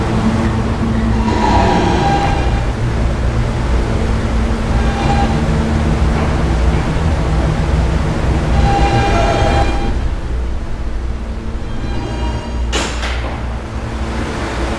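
R160B subway train running in the Roblox game PTA Subway on the Fifth Av Lines: a steady loud rumbling hum with rising and falling motor whine, a door-like clatter near the end, no talking.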